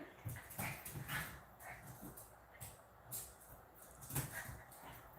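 A female dog growls low and intermittently in a noisy room, with soft whimpering sounds mixed in and faint background voices.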